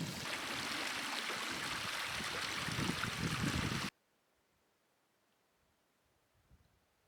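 Rushing stream water in the South Pennines, steady and close for several seconds as water is collected for filtering, then cutting off abruptly to near silence with a faint knock near the end.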